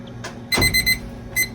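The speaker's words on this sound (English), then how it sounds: "So I'm going to reset this timer" A laboratory timer alarm goes off with a quick cluster of shrill electronic beeps, then a brief pause and another beep, loud and close over a quiet room hum.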